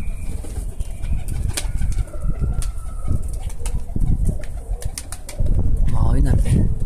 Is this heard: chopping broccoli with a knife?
no